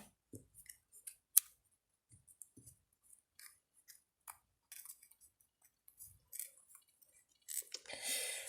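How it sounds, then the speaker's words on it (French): Scissors snipping lace on a shabby-style handmade Easter doll, small scattered clicks and soft cuts, close and faint, ending with a brief rustle. "je vais venir juste couper un petit peu comme ça, hop, dans la dentelle"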